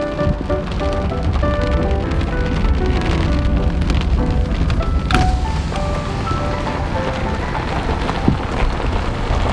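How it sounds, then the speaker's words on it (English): Cold, pouring rain falling steadily outdoors, a dense continuous patter that stays loud and even throughout, with a faint tonal hum running beneath it and no talking. "Okay, that's cold rain."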